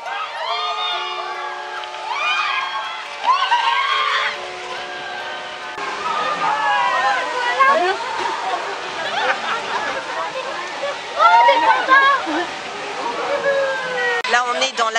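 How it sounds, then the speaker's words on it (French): Riders scream and shout over rushing water on a boat water slide at an amusement park during Halloween, a busy crowd mix of excited voices with talk nearby. "comme un très grand toboggan où on est dans un petit bateau et on fait du toboggan"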